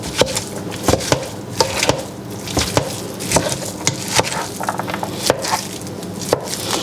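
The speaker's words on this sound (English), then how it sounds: "as I get the meat all chopped up" Meat being chopped on a cutting board, a quick irregular series of close, solid knife thuds and knocks with brief squishy sounds between strikes.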